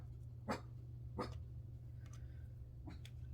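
A dog barks a few times in short, separate bursts, somewhat distant and fairly faint, over a steady low hum in a quiet indoor room where paper crafting is under way.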